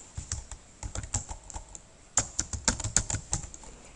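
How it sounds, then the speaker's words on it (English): Quick clicking keystrokes on a computer keyboard, close and distinct, come in uneven bursts with short pauses between them. "type your name"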